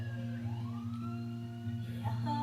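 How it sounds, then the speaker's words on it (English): A fire engine siren sounds at moderate distance, a steady tone with a slowly rising wail layered over a low engine drone, continuing throughout without speech. "that was the siren for the fire engine that you just heard"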